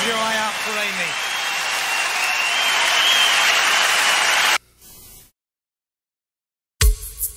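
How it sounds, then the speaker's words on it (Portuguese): Concert audience applause rolls on steadily with a voice over it, then cuts off abruptly into near silence before a brief loud burst returns at the end. "Pare, pare com as palmas."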